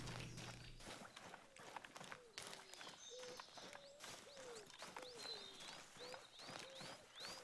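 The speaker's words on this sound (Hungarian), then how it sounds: "Csak bagoly van" Owl hooting in the hunting game theHunter: Call of the Wild, a series of short descending coos repeating steadily at a moderate distance, mixed with footsteps and other bird chirps.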